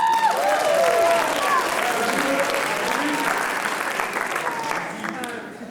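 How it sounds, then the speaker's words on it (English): A school writers expo audience applauds steadily, a full round of clapping with some cheering and a few voices, fading slightly toward the end. "Everybody please give her a round of applause."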